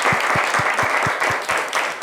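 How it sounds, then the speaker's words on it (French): Studio audience at a French football talk show applauding from the stands, a dense, sustained wash of clapping throughout with steady loudness. "Bon, acclamez-vous déjà."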